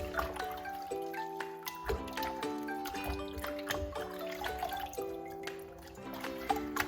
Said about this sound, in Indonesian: kita akan bilas menggunakan air matang atau air minum